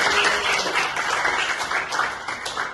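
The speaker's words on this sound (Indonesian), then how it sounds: "tepuk tangan buat Nadine" A high school classroom bursts into applause for a student, a steady wash of many hands clapping together, fairly loud and continuous, with no talk over it.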